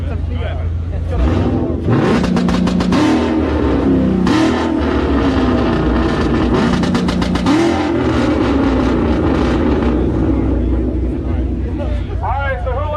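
A Fiat car engine revs loudly at a two-step drag competition, with repeated throttle blips and sustained roaring over a steady rumble, while voices and crowd chatter run underneath.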